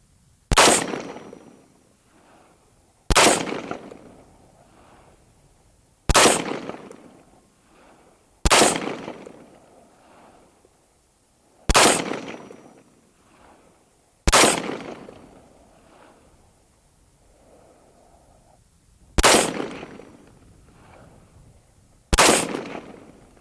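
Radical Defense MK1 Mod 1 14.5-inch patrol rifle firing 75-grain Hornady match hollow point boat tail rounds from a Gen 2 PMag, nine sharp loud shots spaced a few seconds apart, each with a short decaying echo.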